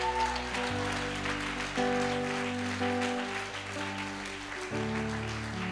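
A church congregation applauding, a steady patter of clapping beneath sustained organ or keyboard chords.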